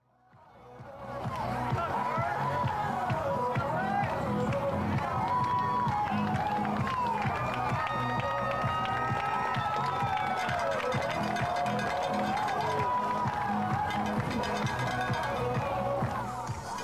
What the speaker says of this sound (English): the crowd reacting to the team slowly making their way back out onto the football field